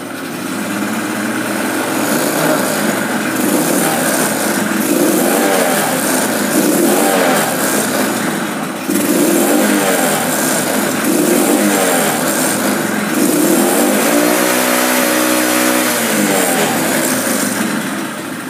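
A motorcycle engine runs loudly and steadily while the throttle is opened, its pitch rising and dipping in long surges with no voices.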